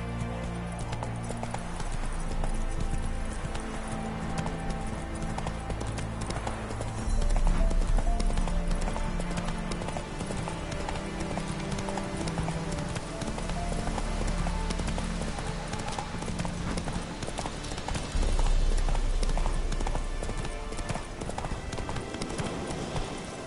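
In The Witcher 3: Wild Hunt, a horse gallops with rapid, steady clip-clop hoofbeats that run the whole time over game ambience, with a couple of heavier surges along the way.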